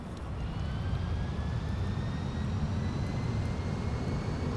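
An F-16 Falcon jet takes off in Flight Simulator X, its engine a steady, loud roar with a slowly rising whine held evenly throughout, no voices.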